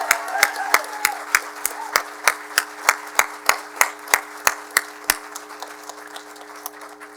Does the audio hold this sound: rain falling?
no